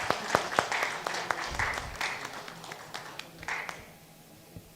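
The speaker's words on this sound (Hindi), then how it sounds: "उनके लिए एक तालियों की गड़गड़ाहट तो हमारे बीच में होनी चाहिए" Audience applause at a Corona Warriors awards ceremony, individual sharp claps that are distinct and fairly close, with a steady patter of clapping underneath and a faint voice, fading out near the end.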